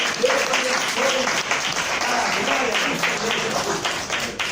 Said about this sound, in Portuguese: Quem pode aplaudir o nome de Jesus?